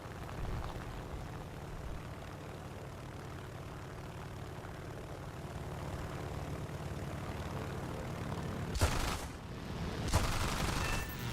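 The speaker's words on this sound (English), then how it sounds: "A bomber coming on." A bomber aircraft in the War Thunder video game flies by with a steady propeller engine drone throughout, joined near the end by two short bursts of gunfire.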